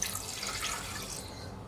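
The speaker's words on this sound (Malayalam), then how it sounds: "ഇനി മൂന്ന് കപ്പ് വെള്ളം" Water runs and splashes steadily into a cooking pot, three cups poured for a curry, a faint continuous pouring hiss with no other sounds.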